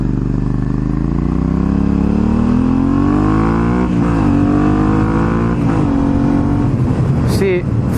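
A liter-class sport motorcycle engine revs hard up through the gears, rising and falling pitch sweeps with clear shift breaks, loud and close, ending in a clattery deceleration.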